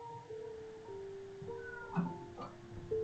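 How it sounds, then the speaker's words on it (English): A house cat meowing faintly in an indoor room, a few short meows set against quiet steady tones and soft background noise, no speech. "You would think this cat would learn."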